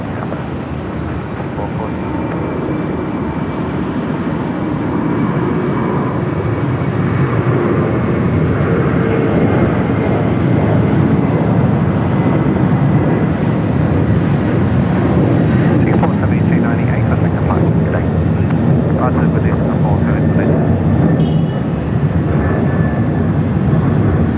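An Airbus airliner lands at Sydney Airport at night, a loud, steady roar of aircraft engines filling the whole span, with people talking and radio chatter over it.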